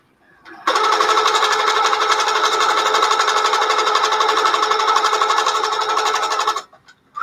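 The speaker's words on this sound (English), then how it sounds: "So I've stitched one. Now I'm going to stitch the next one." A sewing machine stitches quilted feather designs in one continuous, loud, rapid whirring run of about six seconds, starting and stopping abruptly against near silence.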